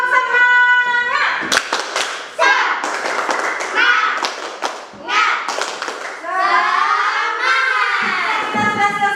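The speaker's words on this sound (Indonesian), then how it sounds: "Tepuk semangat." An elementary school class in Indonesia performs a rhythmic spirit clap, with sharp bursts of close, loud group claps alternating with the children's chanted voices in a patterned sequence.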